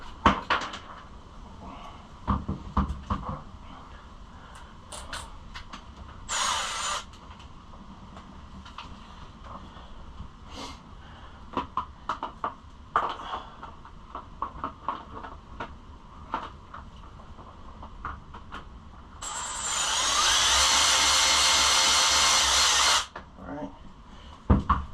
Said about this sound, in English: now we're just going to throw these 4 bolts back in.